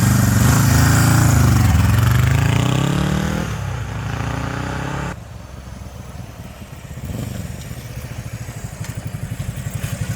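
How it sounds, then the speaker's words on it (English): A 1976 Honda CJ360T motorcycle engine runs close by. It starts with a loud, steady drone, then drops quieter and settles into a rhythmic, pulsing beat. "The engine's nice and quiet."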